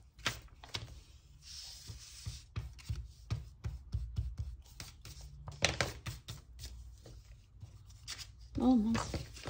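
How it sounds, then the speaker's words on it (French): Pencil marks being rubbed off paper with a rubber eraser while making a small handmade card, heard as quick, close scratchy rubbing strokes in bursts, with a brief voice near the end. "je viens effacer mon crayon papier, si je trouve ma gomme"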